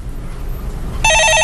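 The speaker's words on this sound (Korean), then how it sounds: "예, 전화 받아보겠습니다" Telephone ringing on a call-in radio show, a loud electronic ring that cuts in suddenly after a moment of low background noise.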